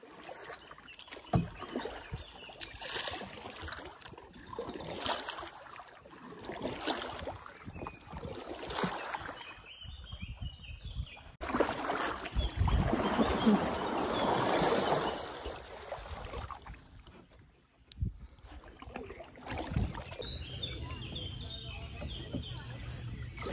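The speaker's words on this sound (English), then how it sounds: "I just want to leave you with some of the beautiful sounds of the water here" Moving river water washes and trickles around a kayak on a river in France, a steady close wash with surges and occasional birdsong in the background.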